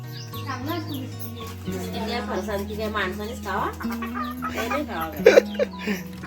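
Hens cluck in quick, chattering bursts close by while people talk over them, with a few sharper squawks toward the end.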